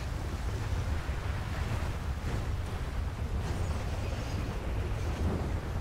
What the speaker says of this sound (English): Oh no, what a tragedy that I slid into the river.